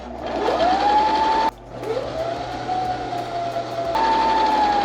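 A sewing machine sews a straight line and then back stitches, a loud close motor whine rising in pitch, pausing briefly, then running again steadily without any talking.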